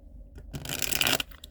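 Tarot cards being shuffled: one or two soft taps, then a quick riffling burst of flicking card edges that fades into light handling noise, close and quiet.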